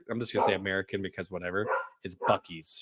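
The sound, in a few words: dog barking excitedly in the background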